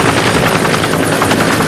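A fire or sheriff's department helicopter's rotor thumps loudly and continuously, close by, with a heavy rhythmic beating over a broad roar, during ocean rescue drills.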